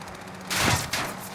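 Gunfire in Call of Duty: Modern Warfare erupts as a dense, loud burst of shots about halfway through, after a quieter start, with a second crack following shortly; no talk is heard over it.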